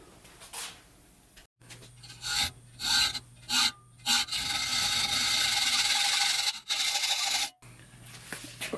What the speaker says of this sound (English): So I'm just going to cut it out of this. This is 8mm DOM tubing from McMaster.